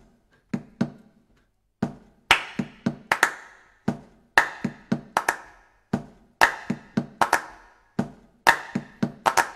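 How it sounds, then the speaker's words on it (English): A home choir claps a repeating rhythm, one clap followed by two fast ones, the crisp, loud slaps standing alone with short silent gaps between groups. "So it's like one clap and then two claps very fast."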